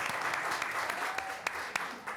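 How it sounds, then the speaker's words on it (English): An audience at a town council meeting applauds steadily, a dense patter of many hands clapping at close range, with a few sharper claps standing out. "I want to also give a round of applause and congratulations to our Councilman Hillary Davis"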